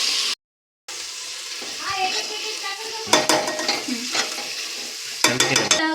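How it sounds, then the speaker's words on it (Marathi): Chopped tomato fries with onions in a pan as it is stirred, giving a close sizzle broken by scraping and clinking spoon-on-pan strokes. The stirring turns busier in bursts toward the end, after a brief dropout near the start. "कट केलेला टमाटा देखील टाकते टमाटा टमाटाला पण मस्त फ्राय करून घ्यायचा आहे"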